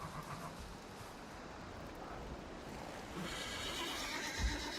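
A horse neighing and whinnying in Valheim, heard amid a dense, steady noise bed with some clip-clop hoof sounds, fairly close and alone without talk.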